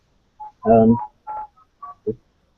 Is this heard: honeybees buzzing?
no